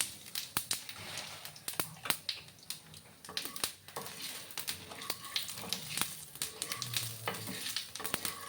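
Cinnamon pieces, cracked cardamom pods and whole cumin frying in hot oil for a spicy potato and pea curry: dense crackling and popping with rapid sharp ticks over a low sizzle, close up.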